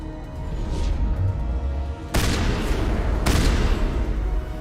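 Two loud, sharp blasts from an explosive shotgun in the Mass Effect video game, about a second apart, each with a long ringing tail, over a steady low rumble of game background noise.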